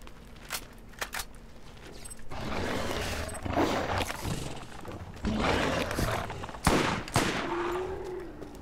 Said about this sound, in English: Was that a gun?